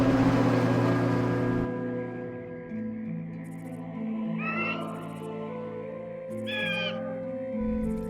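A bird in the video game WarCraft 3 caws twice, distinct harsh calls standing out over a steady droning music bed that fills the whole stretch.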